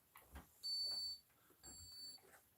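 An air pressure change detector gives two sharp high electronic beeps, each about half a second long, with a pause between them, against quiet room noise and soft handling sounds.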